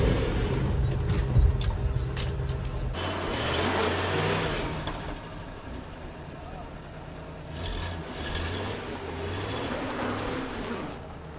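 A 1988 Chevy R30 truck engine labors up a hill with a low, steady rumble and rising and falling revs, while a voice talks over it and something clinks nearby.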